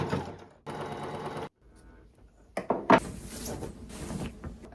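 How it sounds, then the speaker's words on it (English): A sewing machine stitches stretchy fabric with cotton thread in bursts of whirring runs with brief pauses, plus a few clunks and handling noises between stitches. "when you're sewing this type of fabric, you just want to make sure that you're not pulling the material while you're sewing"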